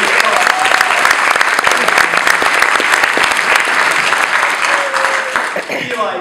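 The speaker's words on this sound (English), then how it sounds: "round of applause for you." A crowd at a town-hall style event with a senator applauds a child, loud, dense clapping sustained for several seconds before tapering slightly at the end, with faint voices underneath.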